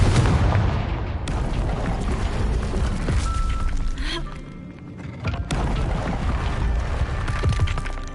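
Confringo blasting spell explosions in the Hogwarts Legacy video game, loud rumbling booms that swell and fade over a dense roar of game sound and music, with a brief quieter dip in the middle.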